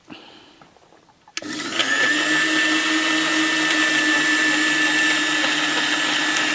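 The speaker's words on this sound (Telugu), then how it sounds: "తగినంత సాల్ట్, ఈ 2 వేసి మిక్సీలో నీళ్లు పోసి కొట్టేసుకోవాలమ్మా." A mixer grinder starts abruptly after a short quiet pause and then runs at a steady, loud whirring roar, blending ingredients with water and salt for a summer drink.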